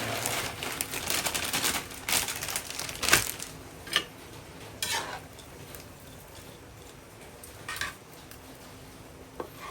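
Canton egg noodles stirred and tossed in a pan with a utensil, giving irregular clattering scrapes and clicks with a few sharper knocks, close and fairly quiet, with no talking.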